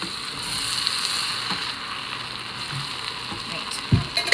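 Onions and garlic stirred and sautéed in an Instant Pot, a soft steady sizzle with occasional scrapes of a utensil near the end.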